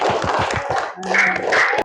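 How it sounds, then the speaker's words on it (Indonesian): Classroom of students clapping for a classmate, a short burst of rhythmic, close claps in a steady beat, followed by a brief mix of clapping and voices. "Tepuk tangan buat Raina"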